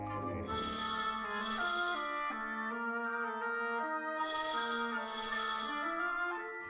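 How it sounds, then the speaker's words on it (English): A telephone rings with two bursts of bright, bell-like tones separated by a pause over a steady musical background, heard in the British Museum. "sounds like a phone"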